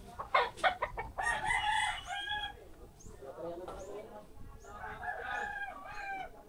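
Roosters crow several times in a row amid clucking chickens, the long harmonic calls loud and close, with people talking in between and over them.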